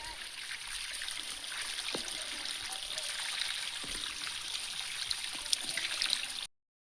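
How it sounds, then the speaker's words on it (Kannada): Water from a tunnel runs through a pipe into a household tank, a steady close trickling and splashing stream that continues evenly without talk before cutting off abruptly. "ಈಗ ನೀರು ಬರುವ ಶಬ್ದ ಕೇಳ್ತಾ ಉಂಟು ಮನೆಗೆ."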